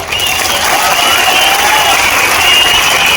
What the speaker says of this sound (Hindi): डॉक्टर साहब के लिए जोर से ताली बजाओ जरा